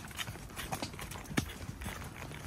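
A horse walks with a dog riding on its back on a ranch in Sonora, Mexico; hooves clop steadily and fairly close, a few sharper strikes standing out over outdoor background noise.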